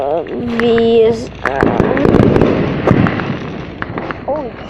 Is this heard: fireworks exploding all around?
yes